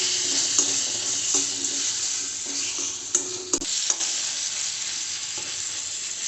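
Ingredients with tamarind and rock salt sauté in oil with a steady close sizzle, broken by repeated clicking scrapes and knocks of a spoon stirring in the pan.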